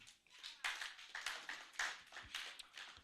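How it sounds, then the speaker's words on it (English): A small audience at a pharmacists' professional and business summit claps for the opening prayer speaker, with uneven bursts of hand claps that rise and fall in rhythm, moderately distant and fairly faint. "Please, a round of applause for him."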